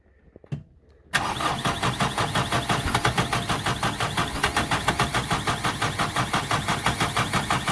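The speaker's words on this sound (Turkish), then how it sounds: "Bas bakayım gazı da bas, marşı da bas." A tractor that has run out of diesel cranks on its starter with the throttle fully pressed, a sudden loud onset followed by a fast, steady, rhythmic churning that never catches, close and alone.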